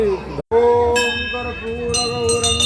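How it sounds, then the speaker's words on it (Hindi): A bright metallic prayer bell rings with sustained shimmering tones over steady Hindu aarti chanting, a second strike adding fresh ringing toward the end. "घंटी"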